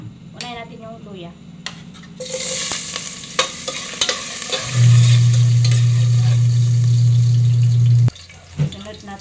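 Ginger goes into hot oil in a pot, bringing clatter and stirring knocks, then a louder steady hum and sizzle that stops abruptly; a voice speaks briefly near the start.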